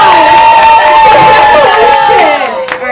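A comedy club audience at the Glendale Room claps and cheers loudly and steadily, a dense wash of applause and shouts that thins slightly toward the end.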